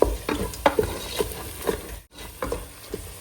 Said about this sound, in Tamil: சேர்த்துட்டு நல்லா மிக்ஸ் பண்ணிக்கலாம் ஃப்ரெண்ட்ஸ்